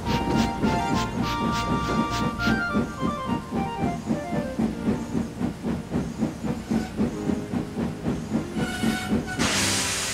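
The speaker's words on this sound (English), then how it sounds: "a new railtour train pulled into the station" A steam locomotive pulling a railtour train into a station, with loud rhythmic chuffing and hissing steam under a whistle-like tone, ending in a burst of escaping steam.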